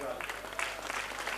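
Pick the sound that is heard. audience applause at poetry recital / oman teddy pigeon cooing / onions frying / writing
audience applause at poetry recital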